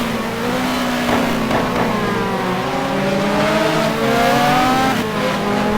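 Onboard a BMW GT2 race car at Brno: the engine drones loud and close, its pitch climbing and falling through gear changes as the car chases a rival.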